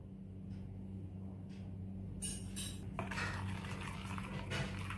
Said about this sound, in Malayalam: നമുക്ക് നന്നായിട്ടൊന്ന് മിക്സ് ചെയ്തെടുക്കാം